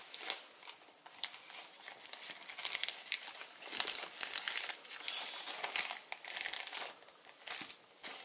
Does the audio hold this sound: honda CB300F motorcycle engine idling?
no